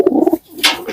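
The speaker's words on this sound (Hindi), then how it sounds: "बस ऐसी मोहब्बत करने वाले कबूतर हैं ये" Close pigeons cooing while feeding in Tonk, near Jaipur, India, a quick burst of soft throaty coos followed by a brief rustle of wings or feathers.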